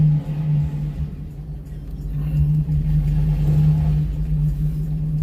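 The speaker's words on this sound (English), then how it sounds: "Can you guys hear my truck spinning?" A truck's engine rumbles and revs steadily as its wheels spin on slippery snow during snow removal, a continuous low drone close by.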